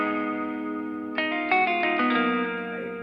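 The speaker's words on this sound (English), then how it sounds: "Moog, it's an analog synthesizer." A Moog Grandmother analog synthesizer plays a held, rich tone, then a short run of brighter stepped notes enters over it, heavily colored by chorus, echo and distortion-like effects, sounding full and close.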